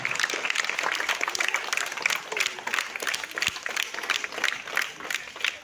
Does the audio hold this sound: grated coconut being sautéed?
no